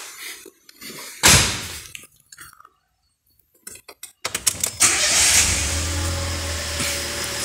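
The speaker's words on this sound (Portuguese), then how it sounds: "Vamos ligar o carro?" A car cranks and catches during a fuel pump test, with current and rotation measured on an oscilloscope. A loud burst is followed by a steady idle that runs on alone to the end.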